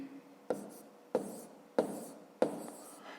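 Pen strokes writing numbers by hand on paper during a fifth-grade maths multiplication exercise: four short, distinct scratching strokes at an even pace, close and fairly quiet in a still room with no talk.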